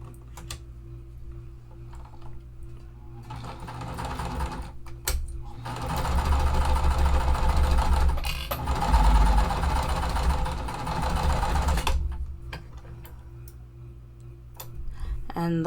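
A sewing machine stitches quilt pieces with Aurifil cotton thread, running in a steady, close, rapid burst for several seconds in the middle, with quieter stop-start stitching before and after.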